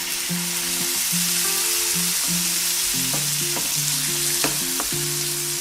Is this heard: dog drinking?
no